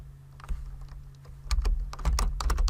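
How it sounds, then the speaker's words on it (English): Keys clack on a computer keyboard while address details are entered, a quiet mix of sparse single taps at first and then quicker bursts of keystrokes, close and alone over a low steady hum. "I'm typing lowercase"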